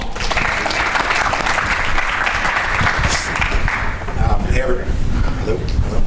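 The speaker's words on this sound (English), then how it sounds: "Give them all a round of applause." Applause at a sports marketing industry event, a steady roar of clapping from a large audience lasting several seconds, with voices mixed in underneath.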